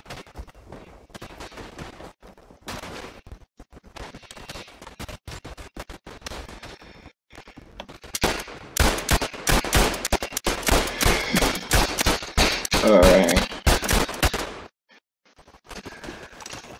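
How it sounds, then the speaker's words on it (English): Rapid bursts of machine gun fire from the World War I game Battlefield 1, on the Tannenberg map, sporadic at first, then dense and loud sustained firing before a short pause and a few more shots. "Okay, you get off this machine gun."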